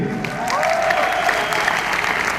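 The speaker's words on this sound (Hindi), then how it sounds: "इतनी कम तालियां एलिमेंट्स के लिए।" An audience at an indoor event applauds in a dense, steady wash of clapping that runs throughout, moderately loud with a faint tonal sound underneath.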